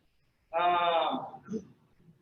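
A dry ewe on a Western Kansas pasture gives one loud, close, wavering bleat lasting about a second, followed by a shorter, fainter call.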